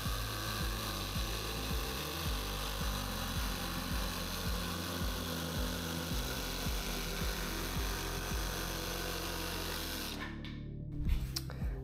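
A DeWalt XR cordless jigsaw cuts through plywood with a steady, loud buzzing rasp that runs almost unbroken for about ten seconds before stopping, followed by a few faint clicks and handling noises.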